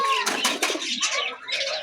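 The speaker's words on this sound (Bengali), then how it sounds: "একটা পায়রা, আর এটাও একটা পায়রা" Several pigeons, among them a white racer hen, make close, busy noises with soft calls, chirps and brief wing flutters layered over one another, with no talk.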